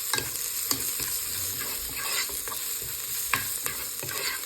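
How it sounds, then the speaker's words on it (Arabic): Chopped onion frying in olive oil and ghee, with a steady close sizzle and the intermittent scrape and clatter of stirring throughout, with no talking. "حطيت شوية زيت زيتون، شوية سمنة اللي عم قلي البصلة اللي قطعتها قطع"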